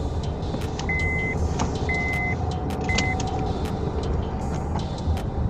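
A car cruises on an open road with a steady, continuous drone of engine and road noise, plus a few soft electronic beeps and clicks as the clutch is used for gear shifts.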